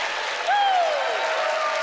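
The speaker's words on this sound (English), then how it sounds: "Do the applause there, Debbie." Audience applause at a Penn and Teller magic show, a moderate wash of clapping carrying on steadily while a voice rises over it with a sliding, cheering tone partway through.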